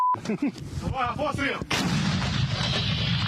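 A loud blast from an American-made M101 howitzer erupts after a short tone and brief voices, followed by a long rumbling echo that rolls on and fades slowly.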